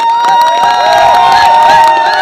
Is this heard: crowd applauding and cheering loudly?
yes